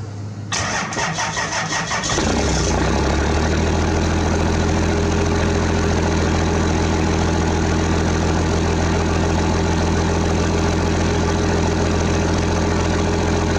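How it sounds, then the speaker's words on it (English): A first-generation truck engine with its fuel screw turned up cranks briefly, catches, and settles into a steady, loud, slightly high idle with a low rumble that continues alone to the end. "It's idling a bit higher than it had earlier"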